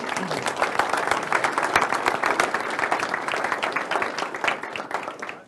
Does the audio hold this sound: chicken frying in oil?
no